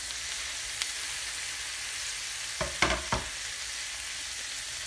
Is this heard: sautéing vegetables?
yes